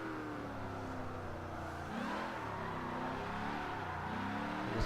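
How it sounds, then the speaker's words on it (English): A car drifts sideways through a corner under light, balanced throttle, its engine droning steadily with a brief rise in revs partway through, heard alone without talk. "you don't need a lot of throttle to hold the car sideways on the corner entry"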